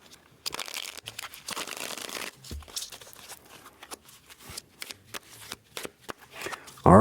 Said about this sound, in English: let's cut the deck, Virgo